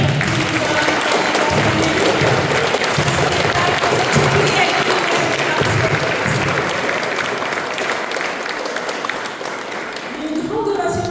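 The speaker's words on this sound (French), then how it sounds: "J'aimerais qu'on applaudisse du coup Thiers et Marie-Dominique." An audience applauds loudly and continuously after a Christmas musical show in a hall, with dense clapping that lasts several seconds and then thins toward the end while a voice speaks over it.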